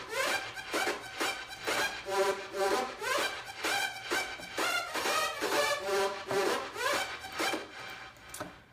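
A dense electronic drop pulses with a choppy, syncopated rhythm of gritty, rasping synth hits over steady beats, playing loud and continuous for nearly nine seconds with no voices.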